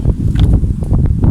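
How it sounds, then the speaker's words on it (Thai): Strong wind blowing outdoors in a kale garden, buffeting the microphone with a constant low rumble and brief gusty bursts. "ลมแรงมากค่ะวันนี้"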